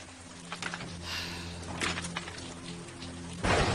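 Rain falls in a steady, soft patter with a faint hiss, and a few slightly stronger bursts rise out of the wash.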